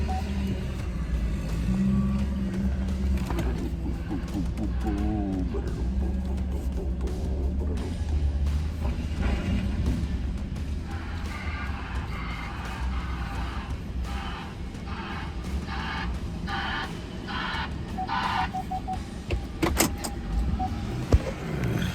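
Chevy Blazer built for racing, backing up with a steady low engine rumble up close, interrupted by a few faint beeps and clanks.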